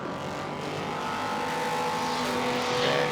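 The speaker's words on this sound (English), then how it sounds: "the Dodge Viper. That GT2 car with its 8-litre V10. Phenomenal sounding device" A Dodge Viper GT2 race car with an 8-litre V10 roars steadily at an endurance race at Silverstone, its loud sustained engine note rising slightly in pitch as it drives by, with no talk.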